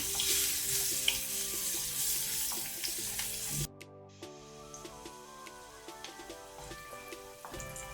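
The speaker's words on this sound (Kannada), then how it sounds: "ಬೆಳ್ಳುಳ್ಳಿ ಕೆಂಪಾಗಲಿ" Garlic sizzles steadily in hot oil in a home kitchen pan, a dense crackling hiss that runs close and continuous, with a brief quieter break partway through.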